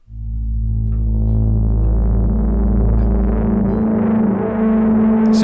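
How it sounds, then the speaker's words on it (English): A bass guitar runs through a Boss tape delay or space echo, building a sustained ambient swell: low notes bloom and stack with smeared echoing repeats that thicken into a steady wash before a faint high chime at the end. "So we add the Boss tape delay on top, or the space echo, which is like a tape delay to me."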